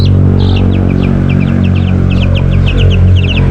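Young chickens, including a rooster and hens being moved to a new coop, chirp in quick repeated high calls over a steady low background rumble.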